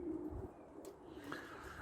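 Pigeons coo softly inside a loft, a few low murmuring calls over faint room noise.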